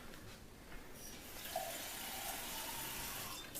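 Water runs steadily from an ozone water filter purifier into a glass, a close, even gushing pour lasting several seconds without speech.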